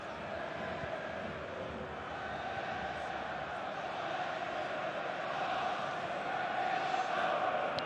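Football crowd at an Arsenal v Liverpool FA Cup third-round match: a steady, distant roar of massed voices that swells slightly toward the end, with no individual shouts standing out.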